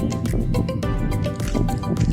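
Spring water pours and splashes in a continuous, close gurgling stream, with bubbly dripping and sloshing textures throughout.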